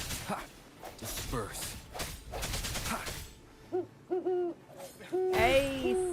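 An owl hoot sound effect in a live stream plays as a few rising hoots after someone speaks over game sounds and gunfire-like bursts, followed by a louder final hoot.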